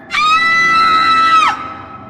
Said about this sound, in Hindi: उसकी चीख सुनते ही उसकी माँ घबराकर उसके कमरे में भागी।